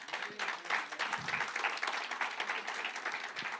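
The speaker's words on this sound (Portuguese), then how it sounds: "Dá-lhe uma ofrenda de aplauso a ele." A church congregation applauds as an offering during a Sunday anniversary service, a steady wash of many hands clapping together that holds for the whole stretch, with no clear voices over it.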